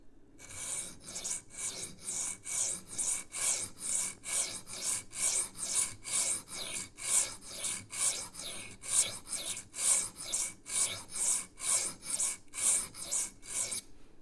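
A Rough Ryder Half Hawk knife is sharpened with a 3D printed angle guide, about fifteen quick, even rasping strokes on one side, each a bright scrape in a steady back-and-forth rhythm, close and clear.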